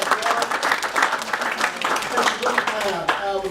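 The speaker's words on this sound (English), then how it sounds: "a round of applause for her" An audience at an evening event breaks into applause, a dense burst of many hands clapping steadily for a few seconds with crowd noise mixed in.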